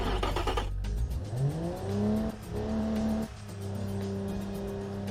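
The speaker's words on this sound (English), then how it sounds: "despite being a huge engine, it's very quiet, and our power is mainly limited by our tiny exhaust" A huge video-game car engine, restricted by a tiny exhaust, revs up and settles into a steady, quiet low rumble, with pitch rising and dipping as the throttle changes; no voices.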